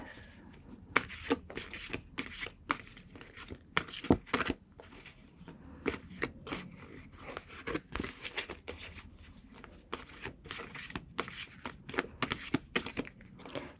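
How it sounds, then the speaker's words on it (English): Steady papery shuffling of a large card deck, rapid crisp riffles and slaps repeating close up with no voices. "It's much easier for me to shuffle them like this."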